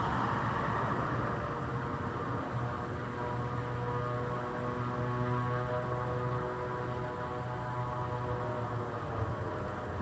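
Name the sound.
Beechcraft 350 aircraft engine running on the ground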